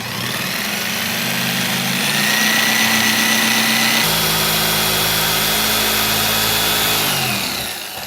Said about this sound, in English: now cut along the line to remove the interior piece of the wall